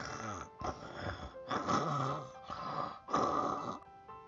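A lion's loud snoring, imitated by a human voice in a children's story, comes as four or five rough, rasping snores in a regular rhythm with short pauses between, close and fairly loud.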